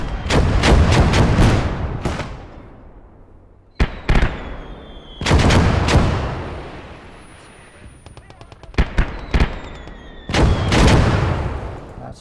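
Mortar and artillery fire in the war game Blood Red Snow: repeated loud booming blasts in clustered volleys, with rapid crackling shots between them and decaying rumbles after each burst.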